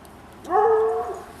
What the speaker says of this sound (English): And there's a howling dog.